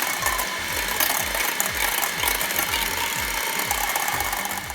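An electric mixer whips egg whites vigorously for pancakes, a constant whirring buzz with rapid rhythmic low thumps and clattering as the beaters work the bowl, close and loud.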